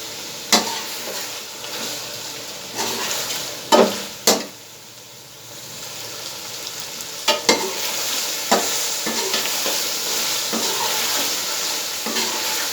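Chillies fry in a pan for a desi-style chicken karahi gravy, a continuous sizzle broken by intermittent sharp scrapes and clacks of a stirring spoon, close up, with one brief quieter pause and no talking.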